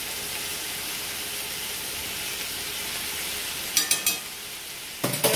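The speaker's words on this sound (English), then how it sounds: "for a couple of minutes just fry in there because you don't want to burn your garlic" Minced garlic frying in a pan alongside seared chicken gives a steady, soft sizzle and hiss throughout, with a few brief scraping or stirring clatters near the end.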